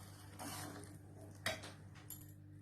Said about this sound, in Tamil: சேர்த்திட்டு நல்லா கலந்து விட்டுக்கோங்க